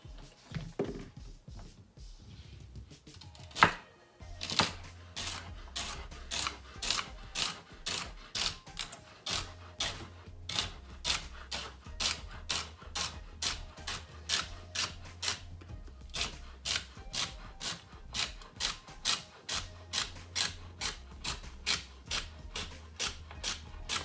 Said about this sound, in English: here I have some thyme, and these are already washed nicely, and we have some celery, so we are just going to cut these up